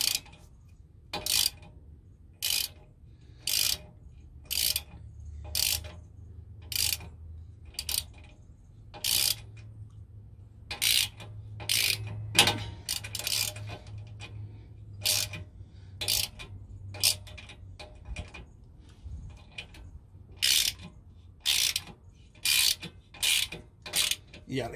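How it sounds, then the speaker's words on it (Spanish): A screw cuts a thread into an unthreaded metal base while being driven slowly with a ratchet during an airbag suspension install on a Ford F-150, giving loud, regular bursts of clicking separated by short pauses. "Este tornillo es el que le está haciendo la rosca a esta base"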